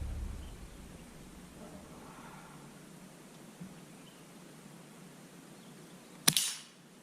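A single sharp crack from a Winchester Model 67A youth rifle fires near the end, briefly ringing out after a long stretch of quiet outdoor background.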